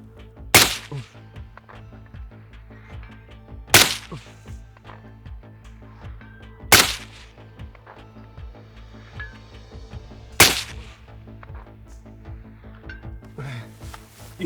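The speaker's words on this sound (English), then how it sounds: "we're gonna be shooting at 550, which is about the outer range of this gun" Four sharp rifle shots from an American-made SAK-21 AKM fired at a 550 target, spaced roughly three seconds apart. Each crack is loud and abrupt over a low steady background hum.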